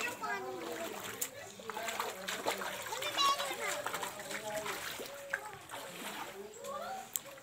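People wade through rainwater flooding a street near a tap, with repeated soft splashes and sloshing, fairly quiet and close, while children and others talk over the water.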